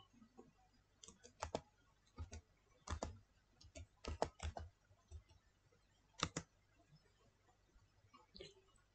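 Typing on a computer keyboard, a quiet room with scattered bursts of key clicks in short irregular clusters, some quick double strikes, close and fairly soft, with no talking.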